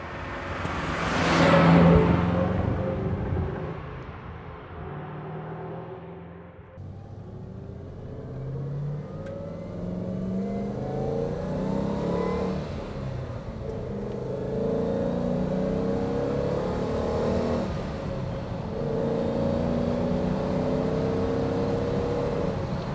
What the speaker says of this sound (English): this is a 1967 Maserati Mexico